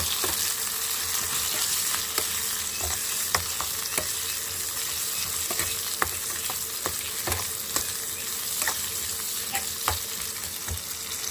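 Upma ingredients frying in oil on a stove crackle and hiss steadily. Sharp utensil clicks and stirring taps recur every second or so over a moderate, continuous sizzle.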